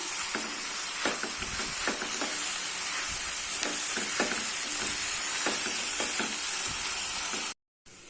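Manathakkali greens sautéing in a pan with a little sugar, a continuous sizzle with frequent spoon scrapes and stirring clicks over several seconds, close and steady, cut by a short gap near the end.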